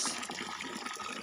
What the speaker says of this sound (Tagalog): At ito ay tubig ng tinugdan.